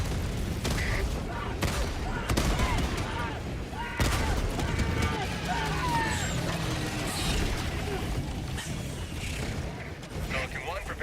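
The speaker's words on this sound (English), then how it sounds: "I'm gonna kill the guy behind him with a deflection off the autocannon" Autocannon fire in the shooter game Helldivers 2 on a high-difficulty mission, dense booming bursts and explosions running continuously throughout amid layered battle noise and game radio voices.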